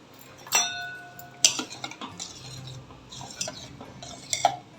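A ladle or spoon stirring sambar of mango, drumstick, brinjal and bottle gourd in a metal cooking pot, giving a few sharp clinks and scrapes against the pot, close and moderately loud, with no talking.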